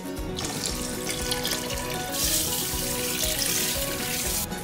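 Water pours into a pot of rice for jambalaya in a steady, hissing splash that stays close and fairly quiet, brightening partway through, with no one talking.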